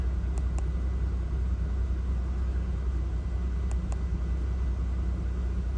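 A Mercedes SL600 V12 idles smoothly at close range, a steady low rumble with an even, unbroken tone and no stumbles, running alone without talk.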